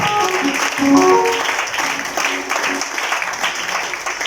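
A church congregation bursts into applause for the Lord, a brief wash of clapping that swells and then settles, with faint voices and music underneath.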